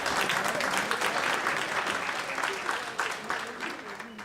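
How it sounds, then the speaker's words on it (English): Audience applause at an award celebration: a sustained, dense burst of clapping from a crowd, fairly close and steady throughout, tapering slightly toward the end, with some voices mixed in. "And y'all should clap for that."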